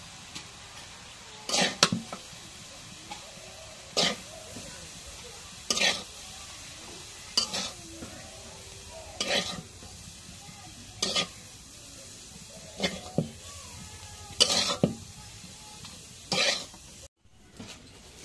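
Greens stirred in a pan, with a run of distinct scraping stir strokes roughly every two seconds over a low sizzle of frying in oil, close and moderately loud, with no talking.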